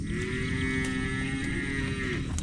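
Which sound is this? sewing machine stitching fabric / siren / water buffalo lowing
water buffalo lowing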